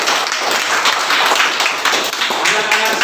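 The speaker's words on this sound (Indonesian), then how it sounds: "Kita beri tepuk tangan dulu untuk kelompok 1." A classroom of students gives a round of applause for a presenting group during a lesson, the dense clapping steady and fairly loud across the whole moment, with voices mixed in.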